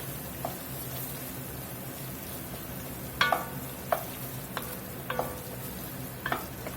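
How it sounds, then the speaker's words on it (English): Green onions cook in a roux in a pot for a Creole catfish dish, giving a soft, steady low sizzle with a few light scrapes of a spoon stirring now and then. "Some green onions. Let them in there, let them cook."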